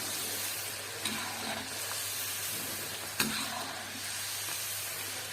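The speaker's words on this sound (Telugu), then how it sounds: "నేను ఇప్పుడు దాంట్లోనే ఆయిల్లోనే ఈ పెసరపప్పు వేసి చూపిస్తాను" Moong dal (split green gram) sizzling in hot oil in a pan for a homemade snack, a steady soft hiss of frying with a couple of faint clinks, no talking.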